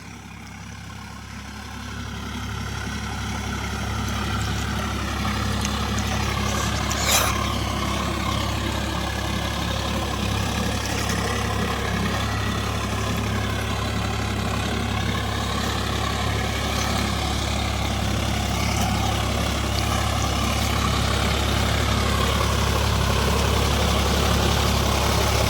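A Sonalika 47Rx 4WD tractor fitted with a rotavator runs through deep mud, its engine holding a steady low rumble that builds over the first few seconds and then stays loud and constant.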